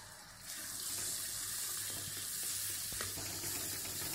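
Gram flour batter hits a hot pan and settles into a steady, continuous sizzle with light stirring clinks, close and fairly loud, no talking.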